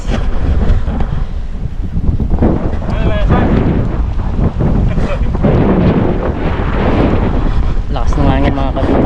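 Strong wind buffets the microphone on a boat at sea, a loud, continuous roaring gust noise with water sounds underneath and people talking through it.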